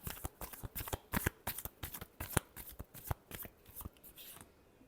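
Tarot cards are shuffled in a rapid run of crisp riffling slaps, close and distinct, easing off toward the end.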